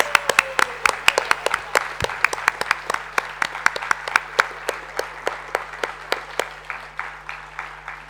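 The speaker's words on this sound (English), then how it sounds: "A big round of applause." An award ceremony audience gives sustained, steady applause, with dense individual claps lasting about eight seconds in a hall, and no voices over it.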